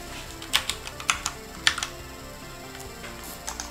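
Keys clack on a computer keyboard at a mainframe console, a run of close, crisp taps in small irregular bursts with short pauses, no voices.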